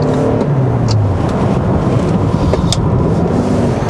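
A 2020 Toyota Avalon Hybrid in sport mode accelerates on a winding road, a steady, loud engine and road drone with wind noise, heard from inside the car and without speech.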